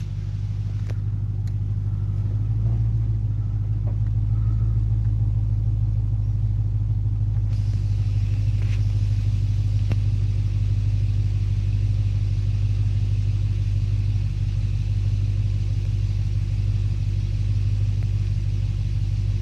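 A car engine idles through a stock muffler in a shop, producing a deep, steady exhaust rumble that stays constant and close throughout, with no talking.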